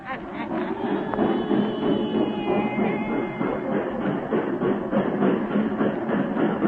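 Old-time radio drama effect of a train rumbling with rhythmic clatter at a small railway depot, moderately loud and steady, with faint voices underneath.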